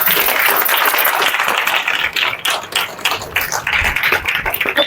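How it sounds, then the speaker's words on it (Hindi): Dense clapping from an audience at a children's Republic Day school programme, a steady crowded patter that holds for about five seconds and thins slightly toward the end. "ताली बजते रहना चाहिए।"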